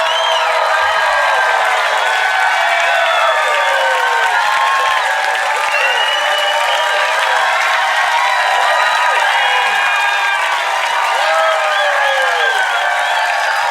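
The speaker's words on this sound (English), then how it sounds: "Listen to this crowd." A large crowd cheering, whooping and applauding in a continuous loud roar, with many overlapping shrill voices sustained throughout and no single speaker.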